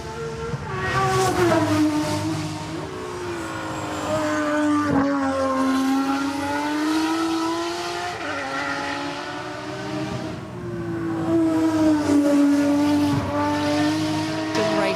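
A 1990 Nissan Skyline HR31 GTS-R touring race car engine drones loudly nearby at Goodwood Festival of Speed, its pitch climbing and dropping through gear changes and corners, with faint tire noise beneath.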